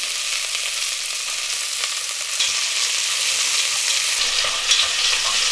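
Pork belly stir-fried over high heat for kimchi stew, giving a steady, close sizzle with stirring and scraping throughout and no talk.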